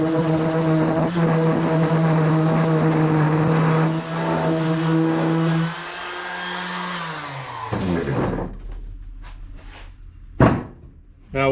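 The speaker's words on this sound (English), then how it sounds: "So I'm just going to take my palm sander real quick and knock that edge off" A palm sander knocks the edge off a piece of angle iron for a homemade sheet metal brake, a loud steady whine that runs for several seconds, then drops and stops, followed by a few sharp knocks.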